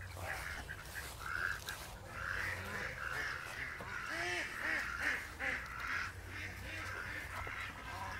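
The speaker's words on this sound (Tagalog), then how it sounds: "ito yung itik Pinas" Pinas ducks (itik Pinas) on a farm quack in repeated short calls, moderately close, over a steady low background hum with other birds calling faintly.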